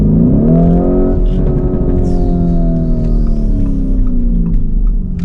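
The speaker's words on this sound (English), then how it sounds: "The bark of that exhaust" A car's exhaust barks loudly at close range as the engine revs, its pitch rising and then easing back in a smooth sweep, with faint sounds in the background.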